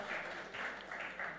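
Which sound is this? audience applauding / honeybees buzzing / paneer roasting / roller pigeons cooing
audience applauding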